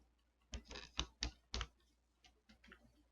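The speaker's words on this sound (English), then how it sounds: "Even softer clicking." Soft, quiet clicks from a ratcheting knee joint on a Transformers Studio Series Swoop toy figure, five distinct close clicks in quick succession followed by a few fainter ones, with no talking.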